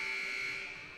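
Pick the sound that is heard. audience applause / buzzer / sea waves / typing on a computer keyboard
buzzer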